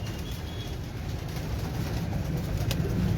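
Breeder pigeons on a rooftop coo softly over a steady low background rumble, the calls faint and blended into the ambience.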